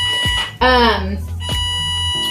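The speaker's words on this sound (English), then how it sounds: "That's my timer for my my yeast." A kitchen timer set for proofing pizza-dough yeast sounds a single loud, bright electronic beep burst lasting about half a second, with speech before and after it in a home kitchen.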